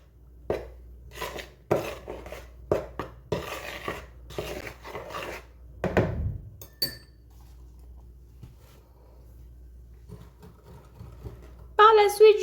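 Batter for a Valentine's Day cake mixed in a bowl, a series of sharp clinking knocks and scrapes of utensil against the bowl in an irregular rhythm, then a pause followed by a brief louder clatter.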